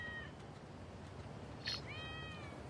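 A cat meows twice in a video game, Grand Theft Auto V on PS5, a short cry followed by a longer rising-falling meow, over quiet background hum.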